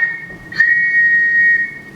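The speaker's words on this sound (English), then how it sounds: "judging from those whistles" A police whistle blown on the moor during a stage performance, one steady shrill tone held for about a second and a half, loud and close, with no talking over it.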